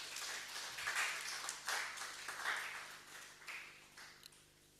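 Club leaders at a leadership seminar applaud in a hall, a few seconds of scattered clapping that rises in bursts and then thins out, faint and somewhat distant.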